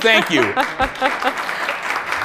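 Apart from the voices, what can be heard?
audience clapping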